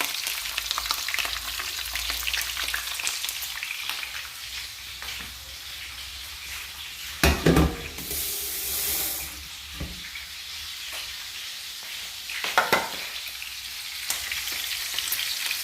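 Green chillies fry in hot oil with a steady close sizzle throughout, broken by a few louder bursts of crackle and stirring, with no talking.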